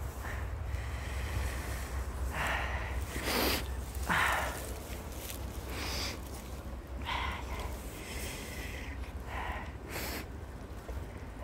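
A sick outdoor cat coughs several times in short, breathy bursts spread irregularly over the stretch, heard against a steady low background hum.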